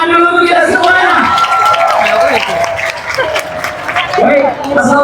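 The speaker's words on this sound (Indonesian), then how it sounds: "Kalau begitu tepuk tangan dulu untuk kita semuanya." A crowd claps together at a lively Topeng Panji performance, a loud, sustained burst of applause with cheering voices mixed in, and a speaker's amplified voice carrying over it.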